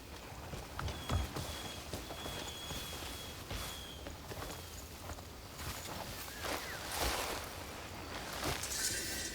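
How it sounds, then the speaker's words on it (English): A wild horse's hooves clop along at an uneven walking pace in the video game Crimson Desert over a long stretch, with rustling and soft background noise throughout. "I recently came across this wild horse."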